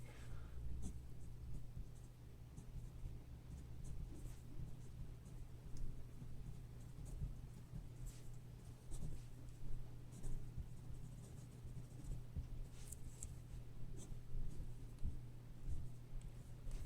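Pen or marker drawing a chemistry diagram of benzene resonance structures, a faint steady scratching of strokes over a constant low hum, with no talking.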